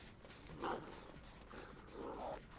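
Dog sound effect from the video game Dead by Daylight, a couple of short faint yelps or barks over a steady low game ambience, with no talking.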